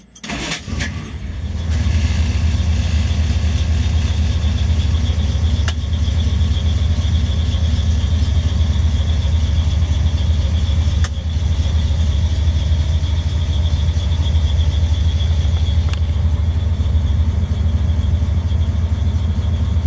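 A 1963 Studebaker Champ pickup truck's old engine cranks briefly with a squeal, catches and settles into a steady, loud rumbling idle that continues alone for the rest of the clip.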